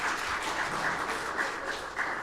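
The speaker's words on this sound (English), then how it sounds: "How about a round of applause for that?" Round of applause from a quiz bowl audience, a steady dense patter of many hands clapping at moderate volume throughout, with no voices over it.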